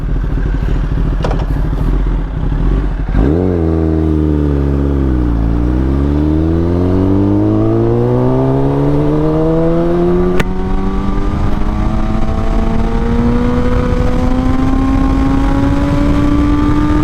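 A Kawasaki ZX-10RR superbike engine, running in low-power mode, roars loudly up close, dipping then climbing in a long steady rev that holds a high, rising pitch.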